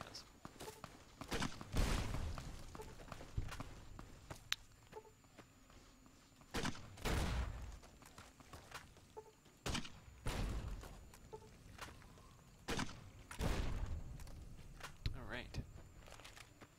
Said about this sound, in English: yeah, no, somebody's shooting us.